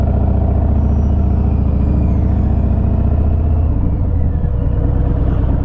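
A 2018 Harley-Davidson Fat Bob with stock drag pipes idles close by, a loud, steady, lumpy low rumble that loosens slightly toward the end, with no talking.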